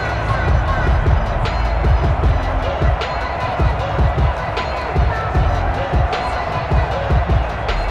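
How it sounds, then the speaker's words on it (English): A stadium crowd roars in the video game Madden NFL 21 during a San Francisco 49ers vs Arizona Cardinals match, a loud continuous cheer with rhythmic thumps and chanting swelling throughout. "That just means this crowd's going to get even louder"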